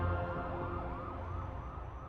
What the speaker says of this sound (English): Only the sirens remained,